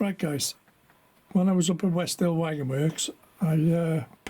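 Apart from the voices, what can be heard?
No everyday noises stand out.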